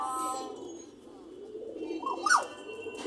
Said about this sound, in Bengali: কবুতর পুষবে, আর ওনার এই শখ এই পাখি,